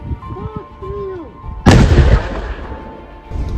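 One loud, sharp artillery blast on the front line bursts out after a stretch of quieter background sounds, followed by a rumbling decay and lingering noise.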